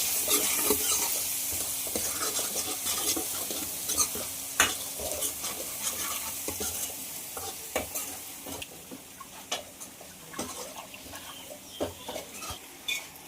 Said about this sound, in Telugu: అల్లం వెల్లుల్లి పేస్ట్ మొత్తం అయితే బాగా వేగిన తర్వాత చికెన్ ముక్కలు వేసేసుకున్నాం